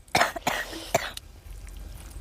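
A few sharp coughs close by, two or three quick bursts in a row, then quiet room noise.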